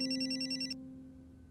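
An electronic telephone ringtone in a café sounds close and steady for under a second, then cuts off abruptly as the call is answered, leaving a low electrical hum.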